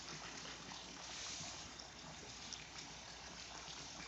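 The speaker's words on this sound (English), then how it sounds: "So as the water's getting filled up, I have to like move it around" Water from a hose filling a Bestway oval above-ground pool set on synthetic grass, a steady, quiet trickle and wash that runs without a break, with no voices over it.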